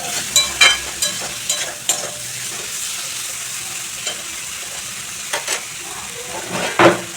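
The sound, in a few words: stirring ridge gourd with spices in pan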